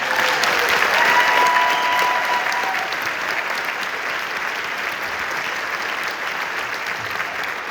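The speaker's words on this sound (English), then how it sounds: "Give them a big round of applause." Sustained applause from a school auditorium audience after an all-district honor band performance, steady dense clapping that peaks early and settles into an even wash, with a few faint voices.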